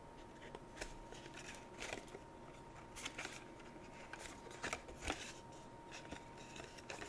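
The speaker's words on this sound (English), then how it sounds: "so I'm just going to grab my paper snips" Paper snips trimming thick cardstock for a pinwheel tower card, giving scattered quiet snipping and crackling cuts over a faint steady hum, with no voices.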